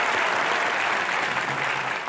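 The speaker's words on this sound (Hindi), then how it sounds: "इसके लिए तालियां बनती हैं" A studio audience at a comedy talk show bursts into continuous, dense applause, many hands clapping together in a loud, even wash that holds steady for about two seconds with no speech.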